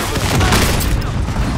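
Dense, continuous gunfire in a Warzone match, a steady barrage of close shots and booms filling the moment, with a faint voice mixed underneath.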